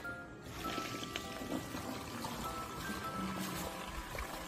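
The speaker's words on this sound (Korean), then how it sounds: "물이 차고 있어요. 엄청 빠른 속도로 차고 있죠." Water rushes quickly into an aquarium external canister filter after the outflow hose is primed, a steady close trickling and pouring without pause.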